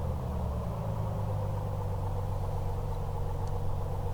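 Aircraft engine just after the throttle is pulled back, a steady low droning rumble at reduced power, continuous and close with no talking over it.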